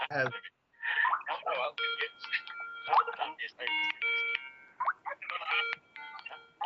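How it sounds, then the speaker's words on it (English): A repeating electronic Skype ringtone of bright stacked tones plays in bursts, with people talking over and between the rings. "Interesting Skype ringtone."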